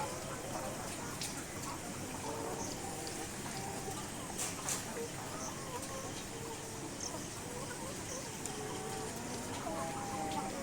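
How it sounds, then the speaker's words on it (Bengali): Egg-laying hens on a farm that also keeps cattle cluck faintly and intermittently under a steady, noisy background, with a person talking nearby. "এটা তো হচ্ছে ডিমের মুরগি।"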